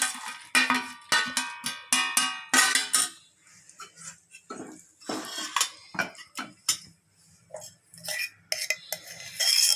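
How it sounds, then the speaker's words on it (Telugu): A utensil stirring wheat flour halwa with almonds and cashews in a pan, giving repeated sharp metallic scrapes and clinks in irregular bursts, close and fairly loud with brief pauses between strokes. "బాగా అడిగంటకుండా తిప్పుతూనే ఉండాలండి, లేకపోతే అడిగంటిపోతుంది."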